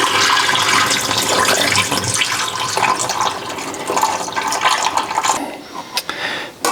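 Water from canned white corn hominy pours out in a loud, continuous splashing gush up close, thinning to a few last drips and splatters at the end.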